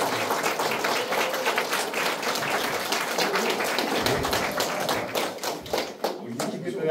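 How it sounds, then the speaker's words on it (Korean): An audience at a Democratic Party committee launch ceremony in Chungcheongbuk-do claps loudly and steadily in sustained applause to welcome former county heads, filling the room for several seconds. "한번 큰 박수로 환영해 주시면 어떨까요?"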